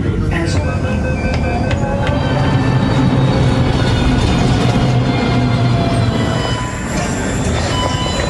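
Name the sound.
Delhi metro train running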